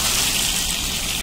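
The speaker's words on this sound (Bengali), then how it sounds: "আমি এবার এর মধ্যে জল দিয়ে দেবো।" Water pours into a hot pan of fried eggplant and pumpkin curry with spices, making a loud, steady rushing hiss up close that cuts off abruptly at the end, with no speech.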